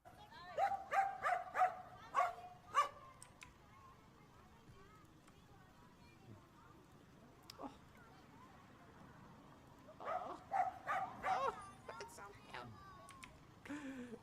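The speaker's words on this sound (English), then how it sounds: "He shows up every single day, even barking at cars that don't stop." Small bursts of dog barking and yipping come in two clusters, one at the start and one later, over a continuous murmur of background noise, with a voice speaking between them.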